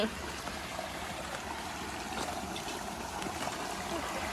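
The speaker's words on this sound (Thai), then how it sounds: "ทุกคนได้ยินเสียงน้ำตกบ่" A waterfall in a Lao forest near a river, giving a steady, continuous rush of water that fills the whole stretch at a constant level.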